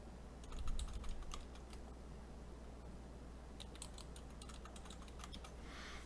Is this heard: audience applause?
no